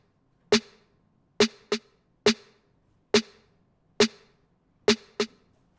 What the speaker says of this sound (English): Next we got the snare that sounds like this.